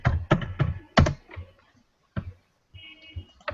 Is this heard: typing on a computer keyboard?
yes